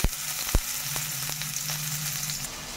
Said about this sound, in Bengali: সরিষার তেলটা গরম হয়ে গেলে আমি বড়াগুলো দিয়ে দেব।